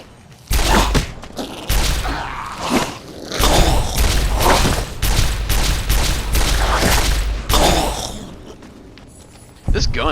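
Gunfire from a weapon in the video game Fallout New Vegas, a loud run of rapid shots that fills most of the stretch, with brief gaps between bursts.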